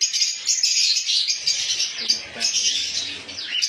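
Fischer's lovebirds, including lutino birds, chirp in a farm aviary with a dense, continuous chorus of high, rapid tweets and chatter from many birds close by.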